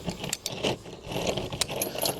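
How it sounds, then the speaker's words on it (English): Vice grips clamp and tighten a 7/16 nut on a scrap-metal airgun target, producing close, irregular metallic clicks, scrapes and ratcheting rattles with no voices. "let's take the vice grips we got here. On the back here of that nut"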